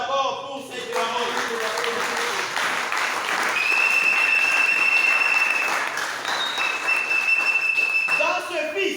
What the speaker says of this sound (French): Acclamons d'abord pour cette parole.